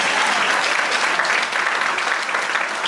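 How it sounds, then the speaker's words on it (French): A church congregation claps and cheers for Jesus during a French-language sermon, a steady dense applause filling the room without a break for three seconds. "Est-ce qu'on peut acclamer pour Jésus"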